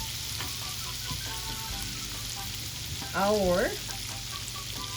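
Sliced squid, cut like calamari, frying in a pan, giving a steady, moderately loud crackling sizzle throughout, with a brief voice speaking near the end.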